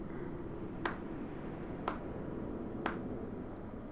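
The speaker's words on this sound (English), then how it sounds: "I use slow clapping, ironically." Three slow, evenly spaced claps, about one second apart, from a character in the video game Stranger of Paradise Final Fantasy Origin, crisp and isolated over a low steady background hum.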